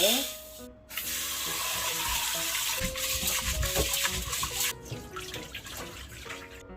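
Water runs from a tap into a pot of two cups of rice being prepared for lettuce rice, a steady splashing stream with a few drips at the end.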